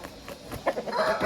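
An Aseel rooster on a poultry farm gives short clucking calls, close and moderately loud, the sounds growing busier toward the end.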